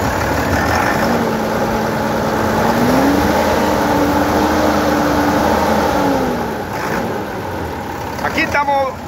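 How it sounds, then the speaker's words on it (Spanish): A Sonalika 125 HP turbo intercooler tractor engine runs close up, its tone rising and holding as it accelerates, with a steady loud rumble and a voice talking over it. "Aquí estamos ejecutando lo que es aceleración"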